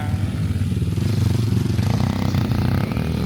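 A 2026 Kawasaki KLX230SE motorcycle being ridden at a test ride event, its single-cylinder engine running steadily loud and close with a continuous buzzing drone and slight throttle variation.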